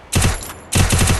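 Gunfire in the video game Free Fire: two close, loud rapid bursts of automatic shots separated by a short pause.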